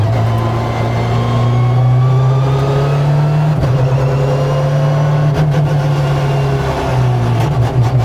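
A Peugeot 306 Maxi rally car's engine holds a loud, steady drone close by, pitch rising and dipping slightly as it revs, with a brief break midway and no talking.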